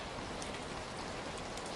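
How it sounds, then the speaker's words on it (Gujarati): Light rain, easing after a heavier morning downpour, falls in a steady, even hiss, with no voices or other sounds. "સવાર સવારમાં વરસાદ વધારે હતો હવે ઓછો પડી ગયો"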